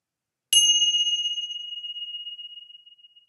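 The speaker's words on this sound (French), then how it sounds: "Essayez d'écouter le son de la cloche jusqu'au bout, jusqu'à ce que la dernière vibration se soit évanouie." A single strike of a mindfulness bell rings out clearly and alone, its pure tone slowly decaying over about three seconds into silence.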